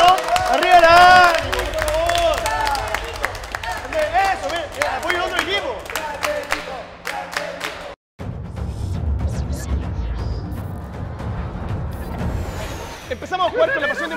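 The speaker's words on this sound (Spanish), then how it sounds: "Pongamos un aplauso todos junto a ella" Audience applause and crowd noise rise at a live gaming competition show in Chile, following a stretch of loud talk with music; the clapping and cheering swell for several seconds as a steady wash of sound.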